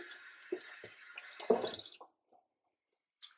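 Parts of a Healthy Choice slow juicer are rinsed under running water, a close splashing trickle with drips that stops abruptly, followed by a faint drip and a brief hiss.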